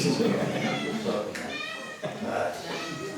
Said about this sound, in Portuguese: Esse gato está abusado, né?